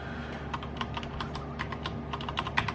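Keys clack in quick, irregular bursts on a computer keyboard while settings are adjusted in a PC BIOS, close and fairly quiet with no talk.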